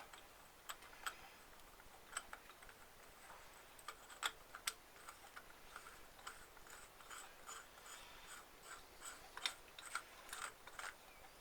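A hand tool works on the output hub of a Citroen 2CV4 driveshaft in a repair job, giving faint, quiet ratcheting clicks at a steady, irregular rhythm with no talking.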